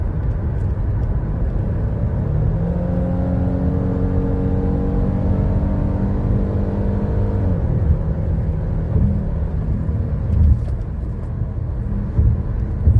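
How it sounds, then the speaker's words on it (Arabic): A 2017 Ford Explorer engine with a random misfire revs up and holds a steady, loud drone with a rising then falling pitch, settling back to a rough idle rumble. "لازم أدعس أو أشد على الموتر عشان يطلع لي"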